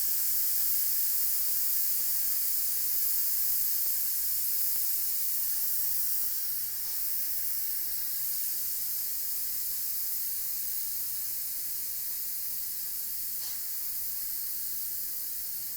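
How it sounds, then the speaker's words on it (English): Steam hisses loudly and steadily from a pressure cooker as it depressurizes, a harsh continuous spray that eases only slightly over its long, unbroken run. "that steam is gonna come out very quickly. And that's allowing this to depressurize so that we can safely open it up"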